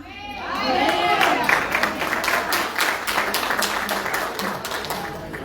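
A congregation applauds during a church service, with a sustained wash of clapping from a full room swelling after a brief spoken moment and holding steady throughout, with voices mixed in.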